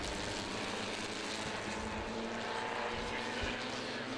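Formula Vee race cars running close together at a historic racing festival at Winton, a steady, dense engine drone that holds throughout without a break.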